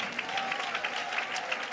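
Congregation clapping hands during a church service, a quick, moderately loud patter of many hands with a faint voice underneath.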